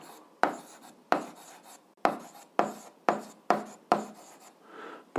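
A pen scratches across paper in quick, uneven strokes, about seven rasping bursts each fading out, as a math exercise is written down by hand; close, clear and without talk.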